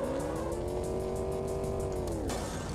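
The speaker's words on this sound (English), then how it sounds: "Stay on the gas pedal." A car engine revs steadily in the video game Enviro-Bear 2000, holding a high sustained whine for over two seconds, then dropping off sharply near the end.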